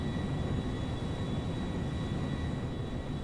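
A Concorde airliner in GTA 5 flies at full power, giving a steady, dense roar of jet engine and rushing air with no breaks over the whole short stretch.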